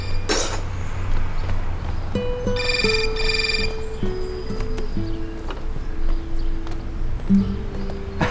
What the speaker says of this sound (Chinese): 电话。